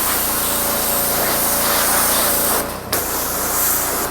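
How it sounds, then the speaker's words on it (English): A pressure washer sprays down a Honda 250SX motorcycle, a loud, steady hiss of water jetting that runs almost continuously, with one brief break before it resumes. "Oh yeah, good pressure washer"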